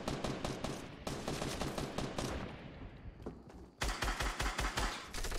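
Rapid bursts of gunfire from the video game Fortnite, dense loud shots running throughout with a brief dip before a sharp, punchy volley near the end.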